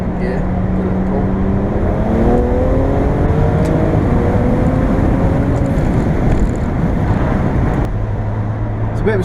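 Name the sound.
BMW 335i N54 DCT accelerating hard in second gear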